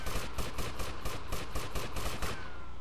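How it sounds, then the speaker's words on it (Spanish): Rapid automatic gunfire from the video game GTA Vice City, a steady burst of about a dozen evenly spaced shots running for nearly three seconds at moderate loudness, with no talk over it. "¿Quién me dispara ahí por allá abajo?"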